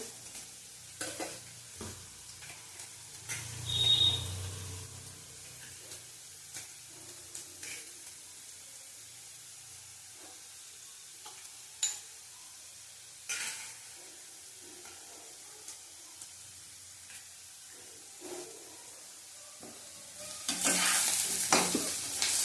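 Soft frying sizzle under intermittent scraping and clatter of a spatula stirring potatoes in a pan, with a louder burst of sizzling near the end.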